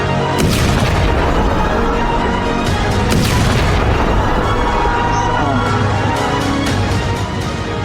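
Missile strike in the residential streets of Beersheba, loud continuous booming rumble with repeated heavy bursts and crackling debris throughout, dense and close, with voices faintly mixed in.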